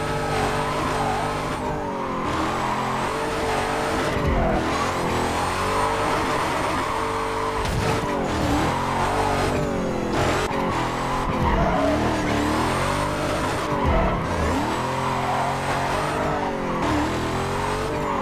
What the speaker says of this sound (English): we'll finish off with some nice Australian-style burnouts